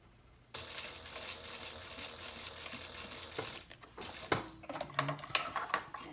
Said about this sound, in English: so we're just gonna sew